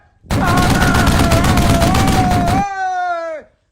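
A loud rapid burst of gunfire from an animated Lego Ninjago episode rattles for about two seconds, then gives way to a falling whine that fades out.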